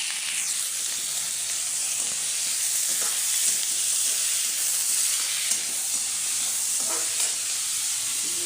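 Onions fry in a hot pan at home, a continuous bright sizzle and hiss holding steady throughout, with a few soft stirring scrapes and no voices.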